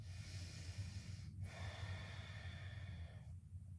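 Strong breathing during a yoga sun salutation held in downward dog, with steady airflow and a brief pause partway through. The breathing sounds close, over a low background hum.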